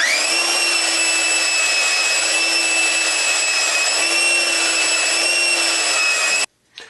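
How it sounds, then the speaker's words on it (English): A belt sander laid on its side runs at full speed against two clamped wooden boards. Its loud, steady motor whine and abrasive drone hold unbroken for several seconds, then cut off abruptly. "I'm just going to use my belt sander that I've positioned on its side here"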